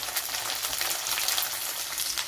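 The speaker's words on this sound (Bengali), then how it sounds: "ফুলকপি এখানে মোটামুটি ভাজা হচ্ছে" Cauliflower florets fry in hot oil for chilli gobi, a steady, busy sizzle with crackling bursts, close and moderately loud, with no voices.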